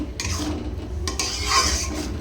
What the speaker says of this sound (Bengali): নুন দিয়ে ভালো করে মশলাটা কষিয়ে নেব